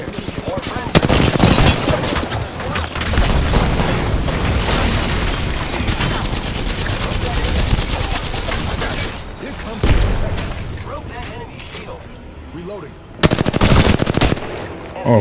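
Automatic gunfire rattles in rapid bursts during an Apex Legends match, loud and close, with short gaps for reloading and a heavy burst near the end, while a player talks underneath.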